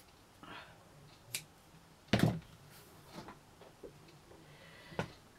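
Scissors snipping through tassel threads, a few sharp isolated cuts close by, the loudest near the middle, separated by quiet handling noises in a still room.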